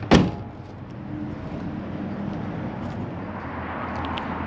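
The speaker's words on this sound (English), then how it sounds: "to close the tailgate is very easy, just like you would on any truck." The tailgate of a 2021 Ram 2500 Power Wagon pickup shuts with a single sharp slam right at the start, followed by steady outdoor background noise.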